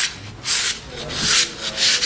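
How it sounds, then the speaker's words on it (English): Wood sanded by hand with the grain, heard as four or five long rasping strokes in a steady back-and-forth rhythm, close and fairly loud with no talking. "you're always sanding with the grain"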